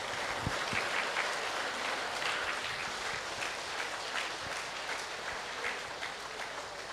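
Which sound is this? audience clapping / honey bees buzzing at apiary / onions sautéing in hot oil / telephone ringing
audience clapping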